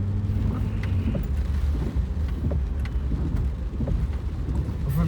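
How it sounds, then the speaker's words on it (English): A hurricane storm pours heavy rain in a steady, loud wash, with scattered drips and rumbling low tones throughout and no talking. "I can tell this is a crazy old storm right now."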